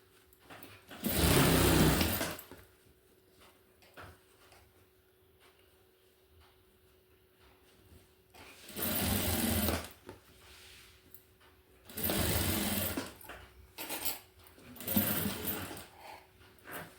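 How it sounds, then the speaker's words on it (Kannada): A sewing machine stitching fabric for a lining runs in short bursts of about one to two seconds each, loud and close, separated by quiet pauses. "ಇವಾಗ ನಾವು ಇದಕ್ಕೊಂದು ಹೊಲಿಗೆ ಹಾಕ್ಕೊಂಬಿಡೋಣ ಮೇಲೆ."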